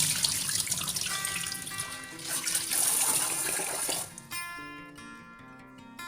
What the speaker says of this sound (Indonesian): Terus ini aku cuci berasnya sekitar 3-4 kali biar ya bersih aja gitu.